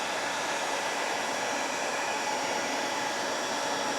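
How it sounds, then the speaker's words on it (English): Heat gun blasting hot air onto Yamaha GT80 engine cases on a rubber-covered workbench, a loud, steady rushing roar that runs close and unbroken throughout. "Heat gun works pretty good for this, actually does."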